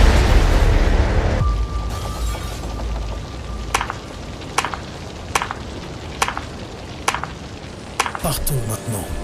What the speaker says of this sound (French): On va voir si tu aimes toujours autant les explosions, Wade.